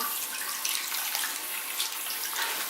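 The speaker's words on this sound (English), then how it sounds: "now we're going to take in a little bit of warm water" Warm tap water runs steadily into a sink while a makeup sponge is rinsed, making a continuous close hiss and splash with slight fluctuations and no voices.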